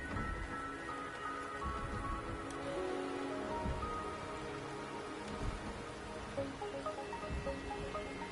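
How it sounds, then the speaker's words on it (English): Rain patters down steadily in Wuthering Waves, a soft constant wash under sustained tonal music and ambient layers, with no speech. "the rain is subsiding."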